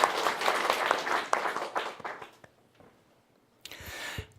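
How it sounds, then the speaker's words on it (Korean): A church congregation gives a round of applause. The clapping is dense at first, then dwindles to scattered claps and stops, followed by a short burst of shuffling noise. "박수 한번 쳐드리죠."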